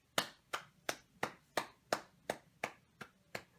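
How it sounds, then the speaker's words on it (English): Single pair of hands clapping nine times at an even, moderate pace, each clap crisp and close with a short decay, alone against a quiet background. "Round of applause for that one"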